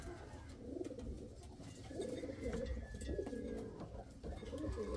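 Indian Fantail pigeons coo softly and repeatedly at close range, their low throaty calls rolling over a faint background with occasional light chirps and clicks.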